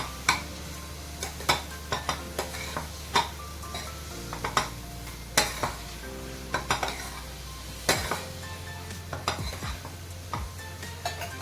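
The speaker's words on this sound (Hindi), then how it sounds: "एक बार इनको अच्छी तरह से चलाते हैं और 3 से 4 मिनट फ्राइंग पैन का लिड कवर करके हम इसको पकाते हैं।" Potatoes and arbi (taro root) being stirred in a frying pan with spices, with irregular scraping and clinking strokes of a spoon against the pan over a soft sizzle and a low steady hum, close and with no talk.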